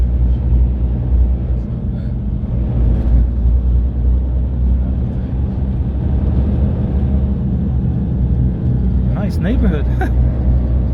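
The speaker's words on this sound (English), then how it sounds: "this replacement bus for the train line" Ride on a replacement bus for a train line in Sweden, from Sollentuna to Solna, with a constant low engine rumble and road noise inside the cabin and a brief squeal or chirp near the end.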